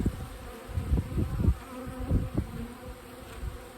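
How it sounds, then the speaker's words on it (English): Honey bees buzz steadily in a low drone around a hive during a swarm catch, with individual bees flying close by in passing swells. "let all the rest of these bees flying around come in and go into the hive."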